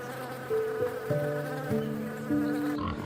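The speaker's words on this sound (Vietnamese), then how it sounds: "Bee." A bee buzzes steadily and fairly quietly for a few seconds under light background music in a children's animal-sounds lesson.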